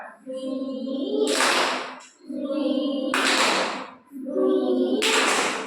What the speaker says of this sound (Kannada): ಇನ್ನು ತುಂಬಿ ಚಪ್ಪಾಳೆ